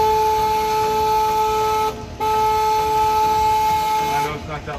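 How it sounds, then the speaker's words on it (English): A San Antonio River cruise boat sounds its horn in two steady honks, the first about two seconds long and the second lasting over two seconds, loud over a continuous noisy background. "I know it's not that loud of a horn, y'all, but hey, I got to honk it anyway."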